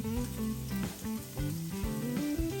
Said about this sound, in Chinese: 先下蒜末和姜末。